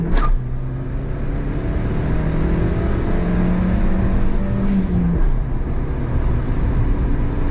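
A Honda Acty kei vehicle accelerates hard at full throttle, its small engine droning steadily and rising in pitch, loud and close throughout with no talking.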